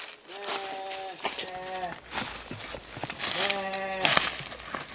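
A goat bleats several times up close, drawn-out wavering calls in two groups with a louder final cry, over outdoor background noise and no talk.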